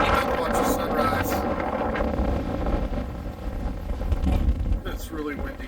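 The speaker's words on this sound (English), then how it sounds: "It's windy as hell this morning in South Padre Island." Wind buffets the microphone in gusts on an open beach at South Padre Island, Texas, at sunrise, with people talking underneath the blustery rumble.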